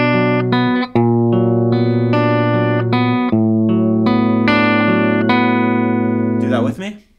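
A song, its first three chords fingerpicked on guitar, ringing with overlapping sustained notes in an even rolling pattern. The playing is close and clear, and strings buzz briefly as it ends.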